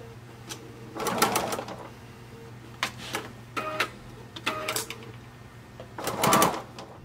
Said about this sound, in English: I'm just going to edge stitch that down with a straight stitch.